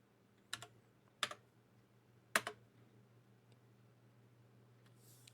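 A file path typed on a computer keyboard comes through as three short, faint bursts of quick key clicks separated by quiet pauses.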